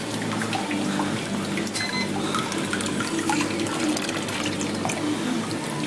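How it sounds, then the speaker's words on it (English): Maple sap runs through a hose and a float valve into a preheat tank in a sugarhouse, a steady, close gurgling and splashing flow that stays even throughout with no voices. "comes out the bottom through the valve, follows this nice hose all the way down"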